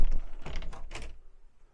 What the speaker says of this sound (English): close the patio doors